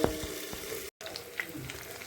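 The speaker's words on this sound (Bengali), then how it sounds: "ঢেকে দিয়ে ভাজা করি, যাতে মাছের ভিতরে সব মশলা টশলা ভালো ঢোকে" Spice-coated fish fries in plenty of oil under a lid, giving a steady close sizzle with soft pops. A brief total silence cuts in halfway before the crackling resumes.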